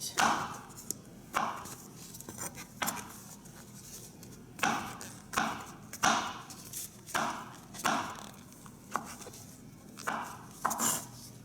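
A knife dicing mushrooms on a cutting board for vegan taco meat, a steady run of sharp chops in short bursts, close and fairly clear.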